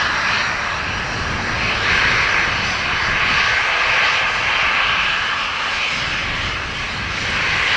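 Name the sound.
Hainan Airlines Airbus A330 jet with Trent engines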